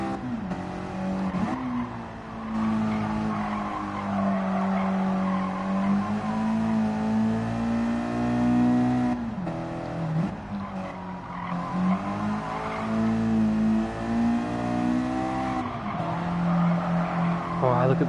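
Race car in Gran Turismo 7 sliding through corners, loud tire squeal and skidding over a revving engine, rising and falling with brief dips, continuous for the whole stretch.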